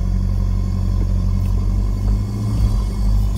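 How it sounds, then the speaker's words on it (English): An off-road vehicle fitted with a front locker crawls over rock steps, its engine a steady, close, loud low rumble with slight swells in load and no talk. "Steer the car where you want to go."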